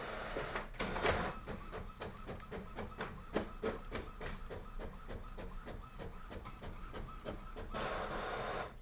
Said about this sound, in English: This printer is able to print quite quickly, I noticed.